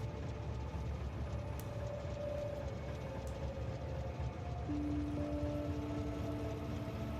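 A train rumbles steadily in the video game Factorio, a continuous low mechanical drone with faint tonal whines rising partway through, no talking.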